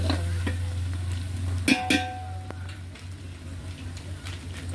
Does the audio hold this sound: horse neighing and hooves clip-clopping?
no